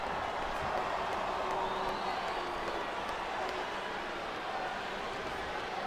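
Arena crowd noise in the SvR 2008 wrestling game, a constant loud roar and cheer filling the whole stretch, with no one talking over it.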